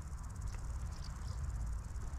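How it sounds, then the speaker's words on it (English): Crickets on a coastal walk in County Donegal, a faint high chirring buzz carried over low wind rumble outdoors, steady and distant, with no voices. "Love to hear the wee crickets."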